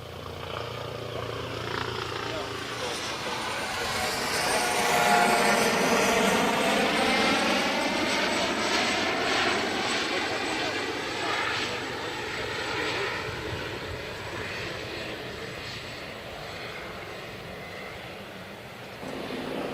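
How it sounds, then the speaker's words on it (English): A helicopter passes overhead near a rocket launch viewing site, a broad whirring roar that swells to its loudest midway and then slowly fades over about twenty seconds. "There's a chopper in the air."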